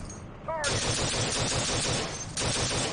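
Machine gun fire in the Steel Beasts Pro tank simulator, a close, loud rapid stream of rounds with a regular pulse, pausing briefly before resuming.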